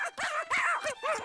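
A cartoon dog gives a run of high, whimpering yips and short barks, four or five bursts in a quick bouncy rhythm, close and clear with no talking.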